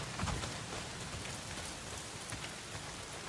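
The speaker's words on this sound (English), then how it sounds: "Ooh, it's raining." Rain pours steadily in Days Gone, a dense, even hiss of drops striking surfaces close by, with a few heavier patters near the start.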